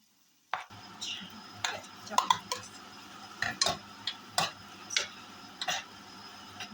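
Garlic and onion sautéing in a hot pan while cooking scrambled egg with shrimp and tomatoes: a faint sizzle with a few sharp utensil clicks and scrapes against the pan, close and sparse, without talk.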